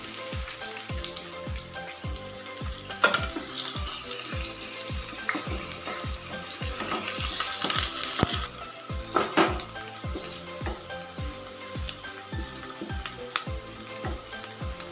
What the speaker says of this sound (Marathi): मी दोन चमचे तेल वापरलेलं आहे मोठे दोन चमचे त्याच्यात कांदा टाकून घेते कांदा छान फ्राय करून घ्यायचा